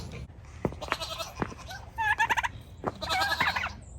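Teagles, turkey-like birds, gobble in rapid warbling bursts close by, several calls overlapping in a lively chorus with soft thumps and rustling between them.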